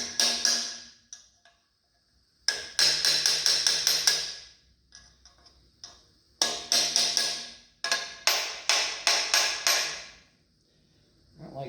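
Sharp metallic hammer blows on an engine part during an engine build, ringing strikes in rapid bursts of several hits each, separated by short silences, loud and close with no talking.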